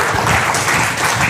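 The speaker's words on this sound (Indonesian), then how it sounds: "Wah, tepuk tangan." Audience applause during a product education session, a loud, dense burst of clapping that fills the space.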